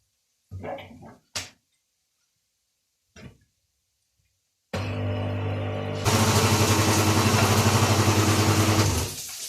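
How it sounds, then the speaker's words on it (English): A kitchen blender whirs loudly while blending spinach and super green vegetables, starting abruptly after a few faint knocks and clatters, then rising to a steadier, higher-pitched roar that cuts off at the end. "We shall turn on our blender"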